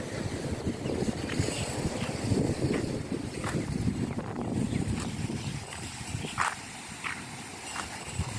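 Strong wind buffets the microphone at the seaside in Songkhla, Thailand, as rain approaches, a loud continuous rumbling roar with gusts and a few faint knocks, no voices.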